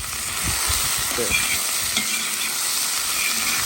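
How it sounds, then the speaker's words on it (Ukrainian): Onions fry and sizzle in a pan for Ukrainian goulash, with a steady hiss throughout and a few soft scraping stirs of a utensil near the start, close by and without talk. "І мішаємо так, щоб підсмажити до золотого кольору."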